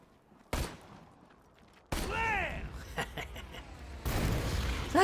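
Gunfire in a video game played on a budget gamepad: a few sharp, loud bursts of shooting separated by short gaps, each with a ringing tail, with a brief voice heard between shots.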